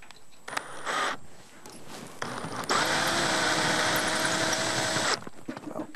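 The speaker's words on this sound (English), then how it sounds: "if you're driving in the concrete, you want to use a socket" Socket driver sinking a Tapcon screw into concrete, a loud steady power-tool whine that starts and stops in short bursts before one longer sustained run, close up with no talking.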